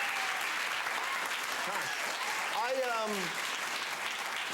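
A television studio audience applauds chef Gordon Ramsay in a steady, sustained burst of clapping, with a voice speaking over it.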